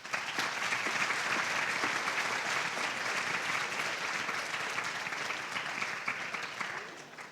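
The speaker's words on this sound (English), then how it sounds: "Can we give them a huge, another round of applause over here?" An audience applauds steadily after a student's poetry recitation at a high school Poetry Out Loud competition, dense sustained clapping filling the room before tapering slightly at the end.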